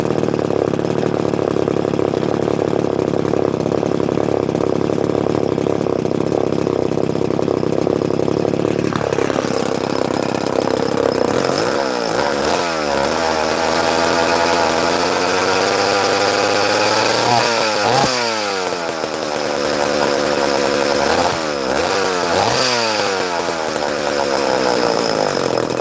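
A two-stroke chainsaw engine, one that won't rev under load in a log, idles steadily and then revs up in several sharp rising bursts, loud and close with no talking.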